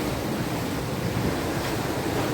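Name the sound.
sea water surging into a cave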